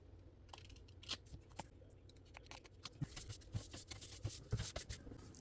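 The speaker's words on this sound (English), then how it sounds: "trim off the excess" Scissors trimming excess paper off a sticky cutting mat during kaleidoscope card-making, a series of quick crisp snips and light rustles, close and fairly quiet, with no talking.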